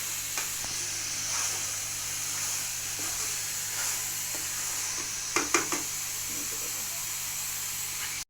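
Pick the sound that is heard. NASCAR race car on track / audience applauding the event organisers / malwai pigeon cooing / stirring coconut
stirring coconut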